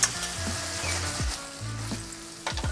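Salmon frying in a seasoned carbon steel Fujita frying pan, a close steady sizzle with stirring and occasional scraping clicks, no talk.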